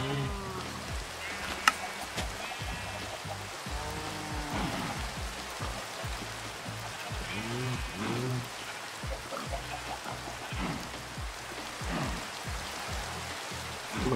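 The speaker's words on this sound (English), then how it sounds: "because it's raining" Rain falls steadily in Minecraft, a soft continuous hiss that stays even throughout, with a few low thuds and scattered faint sounds under it and no voices.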